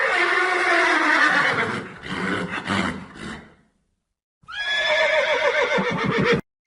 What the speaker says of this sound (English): Horse. The horse is a domesticated.